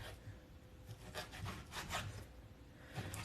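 A dull kitchen knife saws through food on a cutting board in a series of soft, rough rubbing strokes, faint and close, with no talking.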